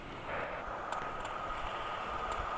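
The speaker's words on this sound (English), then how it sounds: "Follow that train!" Train in the video game GTA San Andreas, a steady mid-level rumble and hum of rolling rail cars with faint metallic squeals and ticks over a constant roar.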